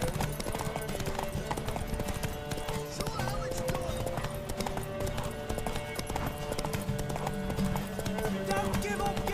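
Horse hooves clip-clop steadily throughout in The Witcher 3, mixed with game music and occasional whinnies, with a voice talking over the action.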